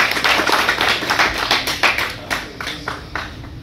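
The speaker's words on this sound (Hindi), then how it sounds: "आपकी भरपूर तालियों में" A crowd claps steadily in dense, continuous applause at a press club reception, gradually thinning and softening toward the end.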